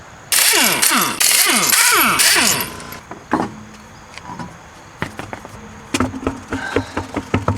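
A 21 mm socket on a power wrench spinning wheel nuts off a 2010-2013 Nissan Rogue on jack stands, a loud whirring buzz in quick sweeping bursts, then scattered metallic clicks and clinks of the nuts and socket nearby.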